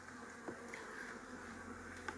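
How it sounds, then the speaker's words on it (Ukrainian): Honey bee colony on five frames buzzing steadily at close range as the hive is opened for its first spring inspection after wintering indoors, a continuous hum with faint clicks and handling noises. "Ну, на п'яти рамках бджолина сім'я."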